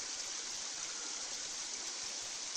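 Glenbrook Creek in Sassafras Gully streams steadily past, a constant, fairly loud broadband rush of flowing water with no pauses or voices.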